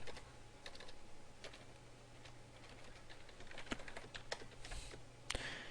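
Code is typed on a computer keyboard in a steady run of sparse, crisp key clicks, some louder than others, heard close up over a low background hum with no talking.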